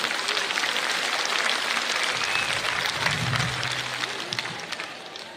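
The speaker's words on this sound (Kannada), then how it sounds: "ಒಂದು ದೊಡ್ಡ ಚಪ್ಪಾಳೆಯೊಂದಿಗೆ ಈ ಒಂದು ದೊಡ್ಡ ಜೀವವನ್ನ ನಾವು ಗೌರವಿಸಬೇಕು." Sustained applause from a large crowd at a JDS women's political rally in Karnataka, steady broadband clapping filling the whole stretch with no break, fairly loud and even throughout.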